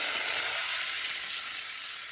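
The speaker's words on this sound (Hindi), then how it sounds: "अभी हमने डालेंगे हम प्रॉन झींगा, जो जो कि हमने साफ करके रखा हुआ है" Cleaned prawns frying with onions in a pan, a dense, even hiss of hot oil sizzling close up, steady throughout with no voices.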